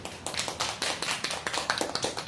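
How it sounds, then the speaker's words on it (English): Applause from a small audience at a Toastmasters club meeting, a run of distinct claps in a quick uneven rhythm, fairly soft and close, with no talking. "Big round of applause for him."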